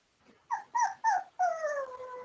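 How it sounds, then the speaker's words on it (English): An eight-week-old puppy whimpers in four short, high, whiny cries, the last one drawn out and falling, close and clear against a quiet indoor room. "Adorable puppy."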